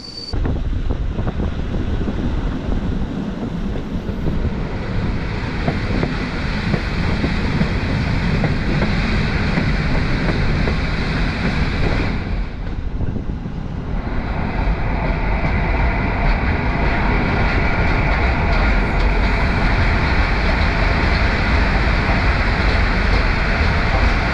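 A night sleeper train rolls steadily on a Polish route, a loud continuous rumble and rushing noise from inside the carriage, with a brief dip in the roar partway through and no talking.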